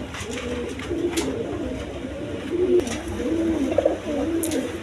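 A pair of red-coloured Golla pigeons sitting on two eggs coo softly, low rolling calls repeating close by over a steady background hiss.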